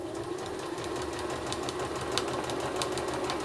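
A sewing machine runs a top stitch along a patchwork quilt seam, its steady mechanical whir close and continuous at a low level with faint rapid ticking.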